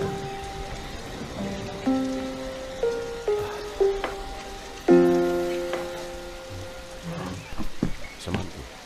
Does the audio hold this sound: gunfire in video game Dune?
no